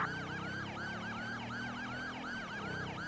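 A police motorcycle siren wails in a fast, repeating up-and-down yelp over a low engine rumble, steady and fairly close throughout.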